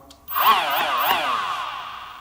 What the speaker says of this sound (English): Throttle all the way down, all the way up, all the way down.